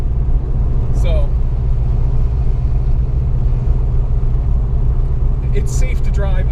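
A car with caster camber plates driving along a road, its steady low engine and road rumble continuous and close throughout, with no breaks.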